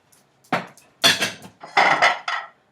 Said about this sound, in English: I like to take my dishes and I like to stack all my bowls together